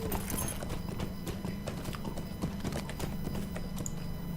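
A horse ridden in Lord of the Rings Online, steady clip-clop of hooves at a brisk, even rhythm, close and clear throughout with faint clicks behind it.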